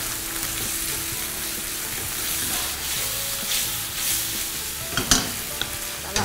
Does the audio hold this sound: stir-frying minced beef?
yes